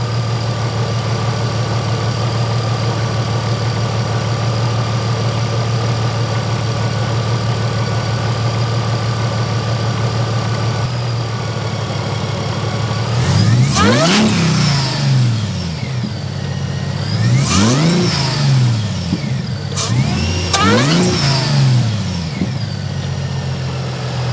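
A Mercedes SLK32 AMG engine idles steadily for several seconds, then revs up sharply three times in quick bursts, each rev rising and falling back to idle.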